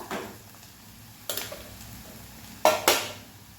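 Onion sautés in a pan over a medium gas flame under a soft, low sizzle, broken by a few sharp spatula scrapes and clinks against the pan at irregular intervals.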